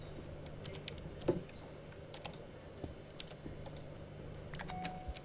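Keyboard typing into a search box in a Minecraft modpack GUI, a light scatter of soft clicks over low background hum, with a few louder taps standing out.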